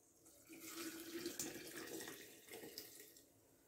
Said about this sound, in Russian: И сейчас мы заливаем дальше баночку водой.